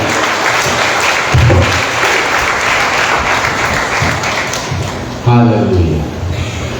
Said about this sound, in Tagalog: Palakpak sa Lord.